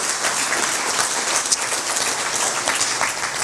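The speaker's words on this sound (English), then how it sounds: "So how about a round of applause for this group" Audience applause at a weather safety summit in Orlando, Florida: a steady wash of many hands clapping at moderate loudness, sustained evenly throughout with no voices over it.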